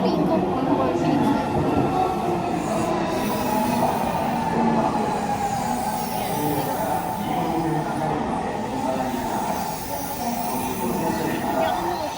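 A train bound for Kansai in Japan rumbles along in a steady, loud, low drone with a faint metallic whine on top, and voices come through over the noise.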